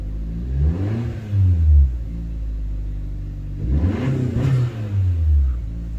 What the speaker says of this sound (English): I'm gonna give it a little bit of gas.